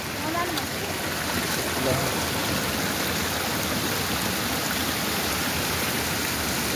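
Floodwater rushing through swollen small streams during heavy monsoon flooding in Nepal roars as a steady, dense broadband wash, continuous and unbroken, with a faint voice underneath.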